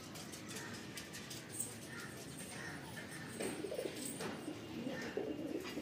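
Soft, low cooing of a wax-beaked (momi chonch) pigeon repeats a few times, quiet and close, with faint rustling in the background.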